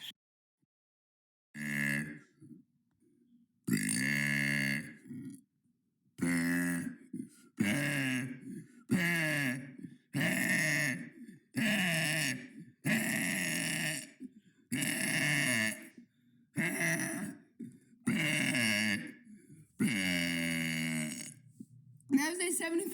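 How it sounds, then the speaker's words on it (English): A long series of about a dozen loud, drawn-out burps in quick succession, each a voiced, groaning belch with brief pauses between, very close and dry with no talking. "That was day 75 of burping for 100 days."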